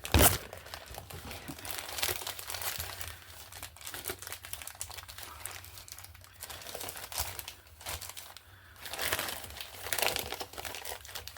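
Plastic sheet crinkled and pressed into place for a craft stem, giving close, irregular crackling and rustling bursts that swell and fade over several seconds, with no voices.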